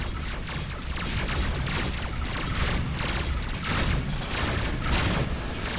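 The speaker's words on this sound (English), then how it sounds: "gotta keep firing my flight cannons" Flight cannons fire in the space combat game Rebel Galaxy: a dense, continuous barrage of booming shots fills the whole stretch at a steady, loud level.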